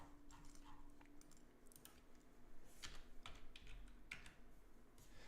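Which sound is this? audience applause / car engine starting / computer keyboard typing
computer keyboard typing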